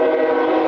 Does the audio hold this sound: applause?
no